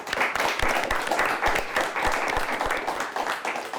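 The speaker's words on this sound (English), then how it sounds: "Give them a nice round of applause." Sustained audience applause for a high-school quiz team at a televised quiz-show matchup, steady dense clapping throughout with no talk.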